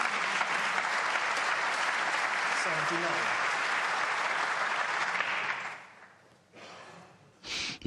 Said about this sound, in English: Oh, they were clapping it.